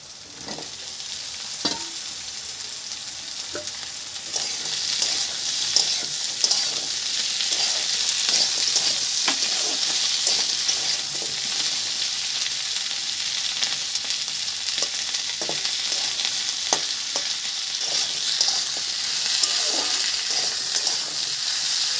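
Cut potatoes frying in a pan for a Rupchanda pomfret fish curry: a loud, steady hiss of sizzling oil with scattered soft clicks and taps of stirring throughout.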